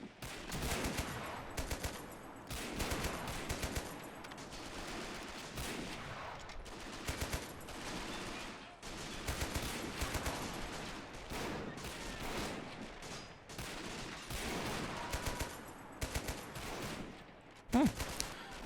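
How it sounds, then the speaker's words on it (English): Gunfire in the World War II strategy game Men of War: Assault Squad during a Fallschirmjäger assault on Pegasus Bridge, with near-constant rifle and submachine-gun bursts, close and distant, and bullets whizzing past in a dense, unbroken battle din. "Oh, damn, look at that bullet whiz."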